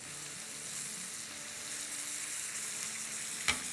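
Seekh kebabs sauté in a pan with a steady, fairly faint sizzle. A couple of sharp pops come near the end.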